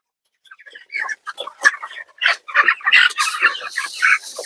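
Broiler chickens clucking and calling around freshly dumped feed in a chicken tractor, a busy close cluster of short overlapping clucks and chirps that grows denser and livelier toward the end.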